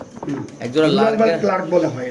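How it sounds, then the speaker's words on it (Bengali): Young Lahori and lark pigeons coo close by in low, rolling throaty calls that run almost continuously, with someone talking over them. "এখানে আছে এক বাচ্চা কবুতর"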